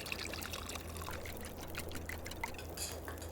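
Water pours steadily while coffee is made in The Long Dark survival game, a continuous close trickling stream at moderate level with no talk over it.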